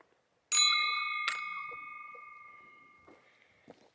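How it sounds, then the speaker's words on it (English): A small victory bell on a trail summit rings twice in quick succession, a bright clear chime that decays slowly into quiet open-air stillness with a few soft footstep-like knocks after. "Looks like there's a little victory bell up here."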